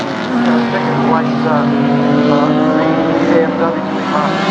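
Race cars roar down the back straight at a 2021 TCRC production car race at Baskerville, a loud sustained engine drone with shifting pitch as they speed past, while a commentator talks over it.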